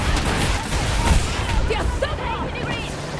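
Gunfire and a TOW missile strike pound an armored tank in a combat video game, dense overlapping blasts and shots running continuously with talk mixed underneath.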